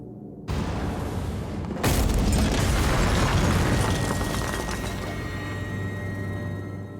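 Bomb explosion in the video game Christmas Stories 2, a sudden loud boom followed by a second heavier blast that rumbles and slowly fades over several seconds, with no talking.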